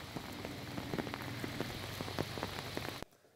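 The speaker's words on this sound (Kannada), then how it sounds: "ಚಿಕ್ಕಮಗಳೂರಿನಲ್ಲಂತೂ ಎತ್ತ ನೋಡಿದರೂ ಮಳೆ" Steady rain falls in Chikkamagaluru, a dense patter of drops hitting surfaces with scattered sharper splashes, continuous and fairly close, ending abruptly near the close.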